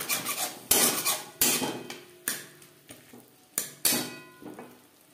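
Onion, tomato and spices being stirred together in a pan for a small fish curry, with repeated loud scraping clinks of a spoon against metal at an uneven rhythm, close by and without speech.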